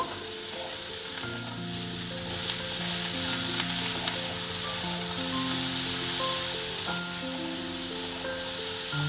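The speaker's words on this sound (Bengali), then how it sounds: "বেগুনগুলো দিয়ে দু থেকে তিন মিনিট একটু ভেজে নেব" Eggplant frying in a pan gives a continuous, even hiss and crackle at moderate volume for the whole stretch, with a soft melodic tune playing underneath and no voices.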